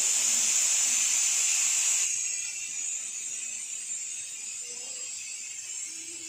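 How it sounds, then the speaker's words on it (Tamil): Steady high-pitched hiss of steam escaping a pressure cooker as its pressure is released, loud and close for two seconds, then settling into a softer continuous hiss that lasts to the end. "அதனால் டக்குன்னு நான் ப்ரெஷரை ரிலீஸ் பண்ணிவிட்டு ஓப்பன் பண்ணிட்டேன்."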